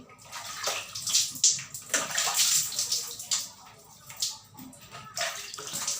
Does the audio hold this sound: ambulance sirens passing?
no